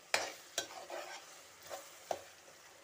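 Green peas being stirred as they fry in a pan, with sharp scraping strokes every half second or so over a faint, soft sizzle, no voices.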